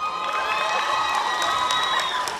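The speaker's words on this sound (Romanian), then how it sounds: "Un rând de aplauze, vă rog." A crowd at a Romanian high school freshman ball cheers and applauds at a steady high pitch, with shouts and whoops over continuous clapping that holds for the whole stretch.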